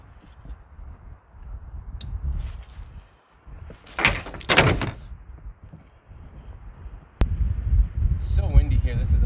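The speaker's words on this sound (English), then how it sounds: "So windy here, this is a dumb idea." Strong gusty wind on a winter canoe trip rumbles against the microphone in uneven bursts, with a loud surge in the middle and heavier buffeting toward the end; a person talks at times.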